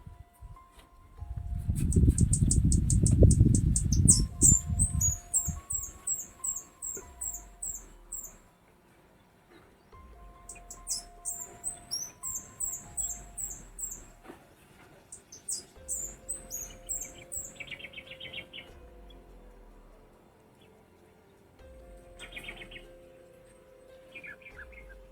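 Birds chirp and trill in repeated bursts, high and clear, with a low rumble of wind near the start and quiet gaps between calls.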